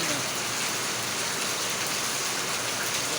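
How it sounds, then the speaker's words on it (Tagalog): Heavy rain pours steadily and loudly on surfaces during a long downpour, a dense unbroken hiss filling the whole stretch with no voices. "Ito, umuulan na."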